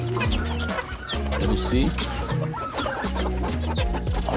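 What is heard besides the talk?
chickens clucking on a farm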